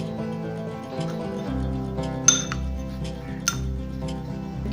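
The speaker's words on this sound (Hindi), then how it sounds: "हमने कैस्टर शुगर ली है, ब्राउन शुगर ली है थोड़ी सी। इसके साथ हम ऐड करेंगे थोड़ा सा सिनेमन पाउडर। इसको हम मिक्स कर लेंगे" A spoon mixes caster sugar, brown sugar and cinnamon powder in a bowl. It gives a few light clinks against the bowl over a steady tonal background hum.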